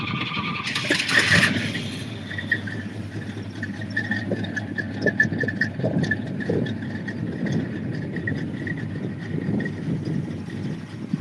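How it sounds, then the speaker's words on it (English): A classic muscle car is started after brief cranking, then settles into a steady, fairly loud rumbling idle that continues for several seconds. "I can start this one up for you just to give you some sort of an idea on it"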